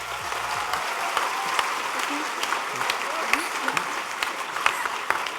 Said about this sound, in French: je vous demande à tous d'applaudir à l'honneur de toute la salle.